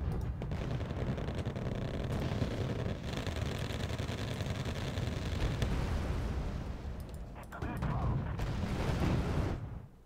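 Heavy thermobaric artillery barrage in the wartime strategy game Wargame: Red Dragon, with rumbling explosions and shellfire rolling continuously for most of the stretch, briefly easing before a final surge of loud blasts.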